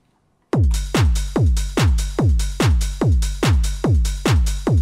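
Ravey techno percussion loop with all the drum elements combined, led by a loud, booming kick striking in a steady, evenly spaced four-on-the-floor pulse, each hit decaying quickly, with no voices.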